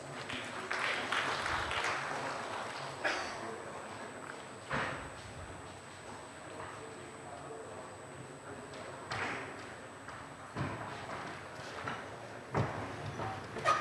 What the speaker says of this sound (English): Ladies and gentlemen, with a big round of applause.